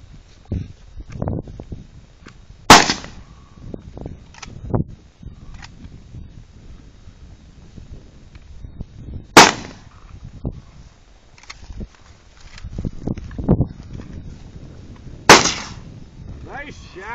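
Gunshots ring out during militia target practice, three sharp loud cracks spaced several seconds apart, with quieter handling noises and outdoor rustling between them.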